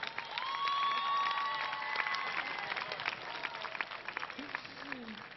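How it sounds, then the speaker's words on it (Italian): Applause for Roberto at a festive evening gathering, a steady crowd clapping through the whole stretch with cheering voices and bright tonal sounds layered over it. "Un applauso al nostro grande Roberto."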